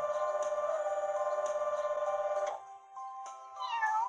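A cartoon cat trapped on a roof in a fire truck kids' puzzle app meows in a long, loud, drawn-out wail, followed by a shorter rising mew.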